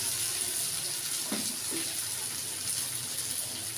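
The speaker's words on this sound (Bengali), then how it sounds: "এবার আমি পরিমাণ মতো জল দিয়ে দেব" Water poured into a pot of cooking biulir dal with poppy seed, a steady faint gushing stream running throughout, soft and without talk.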